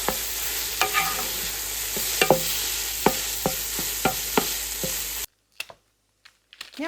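Sausage frying in a pan with a steady sizzle, punctuated by a series of sharp utensil scrapes and taps at a fairly regular pace, then the sound cuts out abruptly, leaving only a few faint clicks.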